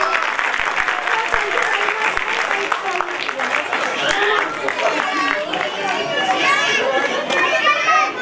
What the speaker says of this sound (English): a huge round of applause please for Ms. Nausheen Naz and Ms. Mozima Sheikh